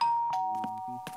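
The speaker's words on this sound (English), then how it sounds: "the doorbell rang." A doorbell chimes a two-tone ding-dong, clear and ringing, followed by a few faint knocks or footsteps.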